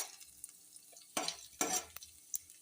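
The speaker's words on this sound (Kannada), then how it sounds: "ಮೊದಲಿಗೆ ಇದನ್ನು ರೋಸ್ಟ್ ಮಾಡ್ಕೊಳ್ಳಿ." Dried red chilli, ginger and curry leaves roasting in a pan for vegetable upma, with a faint sizzle broken by two bursts of stirring and scraping and a few light clinks.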